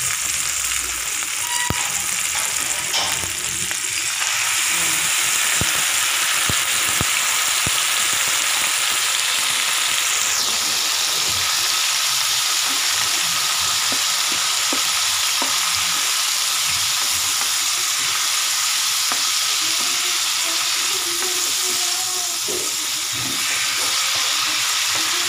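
Marinated pork sizzles and fries loudly and continuously in a pan, with occasional scraping and stirring knocks throughout.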